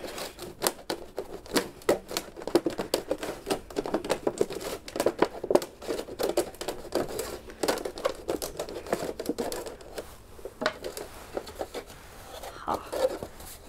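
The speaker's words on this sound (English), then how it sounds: "we're going to be cutting along the center of the container." A plastic container is cut along its center for winter sowing, giving irregular crinkling, crackling snips and rustles up close, fairly quiet and uneven in rhythm.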